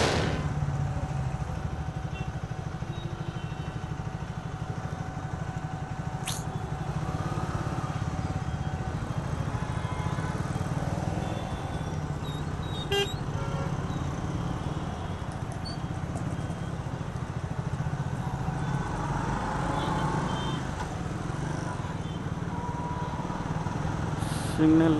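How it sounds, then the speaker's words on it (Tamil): Heavy road traffic surrounds a rider on a Triumph Speed 400 motorcycle: a constant broadband roar of engines and wind, with a horn tone sounding partway through and brief sharp sounds here and there. "ஐயோ நல்லா டிராஃபிக்காக இருக்கு."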